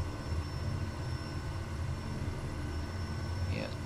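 Kodiak 100 turboprop engine running in a flight simulator game, a steady low engine drone with constant hum and a faint high whine, unbroken for several seconds.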